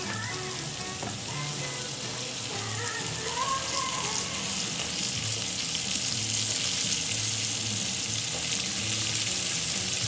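Beef browning in olive oil in a pot for stew, a loud continuous sizzle and hiss that holds steady throughout, with faint clinks beneath and no speech.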